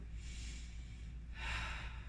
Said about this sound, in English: taking a few deep breaths in and out